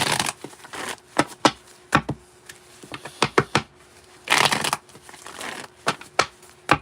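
Playing cards are shuffled and riffled in quick crisp bursts, sharp flicks and a couple of longer riffles close up, with no talking.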